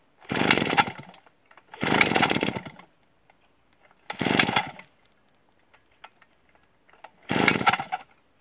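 A Kawasaki KT17 engine is cranked without throttle and starts poorly, giving four separate loud, rough bursts of about a second each with quiet gaps between them.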